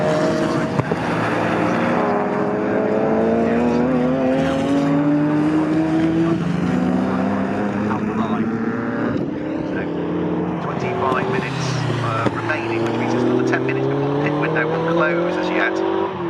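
TVR Tuscan race car engine droning loudly on track during a CSCC Modern Classics race at Snetterton, with rising and falling pitch sweeps as it runs close, under continuous commentary.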